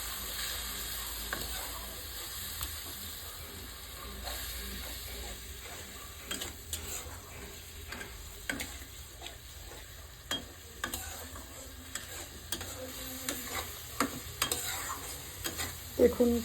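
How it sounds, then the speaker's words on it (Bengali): Chicken curry masala with Kashmiri chili powder and a splash of water sautéing in a pan, a faint low sizzle under repeated scraping and clacking strokes of a spatula that grow louder toward the end. "একটু জল দিয়ে ভালো করে কষিয়ে নিচ্ছি।"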